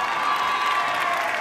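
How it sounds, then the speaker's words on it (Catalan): Applause at a university graduation ceremony, a brief steady wash of many hands clapping from a crowd, with faint cheering mixed in. "A veure aquests aplaudiments."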